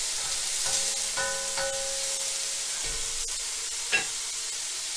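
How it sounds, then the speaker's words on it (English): Onions and garlic fry in about half a tablespoon of oil in a pan, a steady close sizzle throughout with a few light stirring knocks and one sharp clink near the end. "Just get it added the onions and garlic just to get it going a little."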